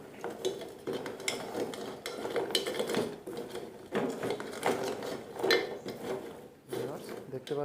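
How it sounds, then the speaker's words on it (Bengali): Morali fruit being stirred into sugar syrup in a bowl gives repeated scraping, clinking and knocking of a spoon against the dish, close and uneven in rhythm, with short pauses between strokes. "এটাকে এখন আমি সুন্দর করে নাড়াচাড়া দিয়ে 20 মিনিটের জন্য রেখে দেব"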